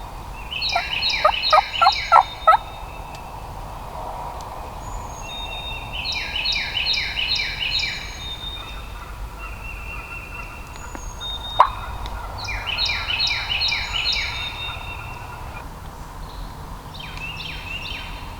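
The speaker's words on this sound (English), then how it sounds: "Gobbled again." A wild Mississippi turkey gobbles in the distance, roughly 150 yards off, with three or four rolling gobbles spaced through a quiet outdoor stretch in rough weather.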